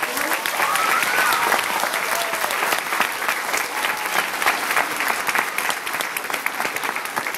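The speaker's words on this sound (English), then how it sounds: "let's have a big round of applause for all of them." An audience of parents, grandparents and families at a school applauds loudly for a class dance performance on MLK Day, with dense, sustained clapping and some crowd noise throughout.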